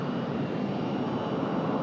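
An American Airlines airliner at Raleigh-Durham International Airport fills the clip with a steady, loud, broadband engine roar that holds even throughout without pauses.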